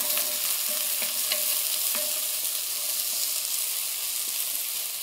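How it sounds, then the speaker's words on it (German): Wiener sausages sizzle and spit as they brown in a Dutch oven, a steady close frying hiss with occasional pops and faint stirring knocks, no talk. "Wir fangen an mit unserer Wiener zum Anbraten."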